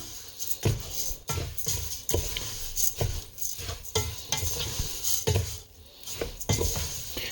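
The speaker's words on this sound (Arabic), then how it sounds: "بعد ما حمى الزيت حطيت الفريكي انا" Freekeh is stirred in hot oil in a pan, giving repeated scraping and clattering strokes at a steady rhythm over a low, continuous sizzle, close and moderately loud.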